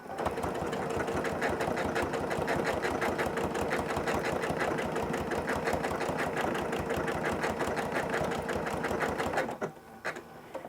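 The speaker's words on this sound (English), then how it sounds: "let's start stitching along and see what this looks like" A sewing machine runs steadily at speed while free motion quilting a whole cloth quilt, its rapid even needle rhythm sustained for about nine seconds before stopping abruptly, with a few faint handling sounds afterward.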